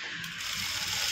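A sewing machine runs steadily, double-stitching along the neckline of a blouse with a dense, continuous mechanical whir and fast ratcheting clatter close up, alone without any talk.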